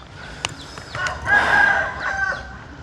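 A rooster crows at a Thai farmyard among ducks and chickens, a clear strident call rising and sustained over about a second, with softer clucking fowl and a few sharp knocks around it.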